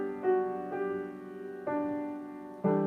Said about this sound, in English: Just way too much pedal for this piano